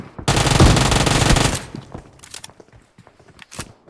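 A loud, sustained burst of automatic Scar-L rifle fire in the PUBG battle royale game rattles for over a second, then gives way to scattered quieter thuds and footstep-like sounds.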